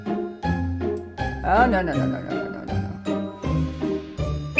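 In the Cat Burglar video game, tinkling, Christmas-like jingle music plays with chime and bell tones over a bass line, while a person briefly exclaims.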